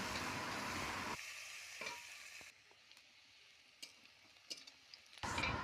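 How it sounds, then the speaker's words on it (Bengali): Onion frying in the oil left from frying rohu fish, a loud steady sizzle for the first second that drops to a soft crackle with scattered stirring clicks, then a louder sizzle at the end. "ওই তেলেতে পেঁয়াজটা ভালোভাবে ভেজে নেব।"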